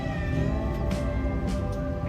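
A large cat meows and caterwauls in short drawn-out cries over a loud, steady rumbling background noise.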